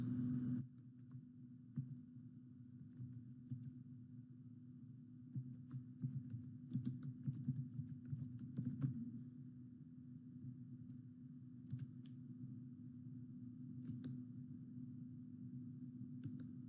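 Keystrokes on a computer keyboard while entering a warehouse name in business software, quiet bursts of clicking taps over a constant low fan hum, close and faint.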